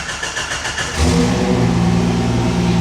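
A turbocharged Jeep Wrangler engine cranks and catches, then settles into a loud, steady rumbling idle close by, with no talk over it.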